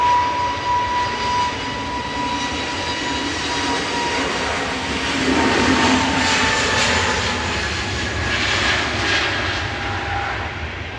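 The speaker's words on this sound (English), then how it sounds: "A320neo, 5-year-old aircraft heading over to Amsterdam there with flight 2161" An EasyJet Airbus A320neo jet airliner roars at Manchester Airport, its loud, continuous engine rumble and whine swelling slightly midway and holding steady throughout, with no talking.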